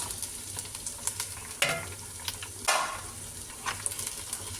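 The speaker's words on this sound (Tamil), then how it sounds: "நல்லா வெங்காயம் வதங்கிடுச்சு" Onions sautéing in a clay pot for chicken biryani give a continuous close sizzle, broken by a few louder scraping stirs and clatters of the spoon against the earthenware, with no voices.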